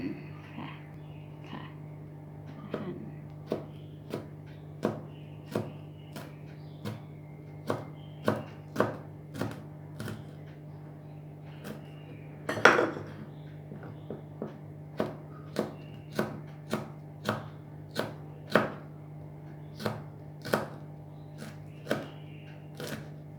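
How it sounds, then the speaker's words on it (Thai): A knife chops chili peppers on a cutting board in a steady run of crisp, quiet taps, one louder knock in the middle. "นำพริกมาหั่น"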